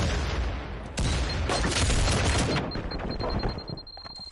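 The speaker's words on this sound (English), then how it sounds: "I like the way that they threw out those grenades" Grenade blasts and gunfire in a multiplayer video game match, a dense volley of explosive bursts and rattling shots that thins out toward the end while a thin high tone lingers.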